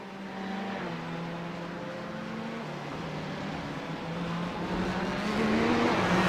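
GTE race cars, including a Ferrari, run down the Monza front stretch in a racing game, their engines droning steadily and rising in pitch and loudness as they accelerate.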